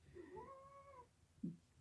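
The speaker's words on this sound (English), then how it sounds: "the cat's going through telling me she's starving" A house cat meows for food with one drawn-out, faint wavering meow, followed by a short low chirp, heard close in a quiet room.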